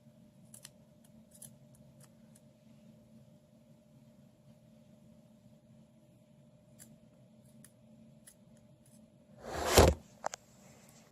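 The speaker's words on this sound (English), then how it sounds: "it's really important to make sure that you snip this part off" Scissors snip thread off a handmade mini Chain Chomp plush toy: one loud, sharp cut near the end, after a long stretch of quiet room hum with a few faint ticks.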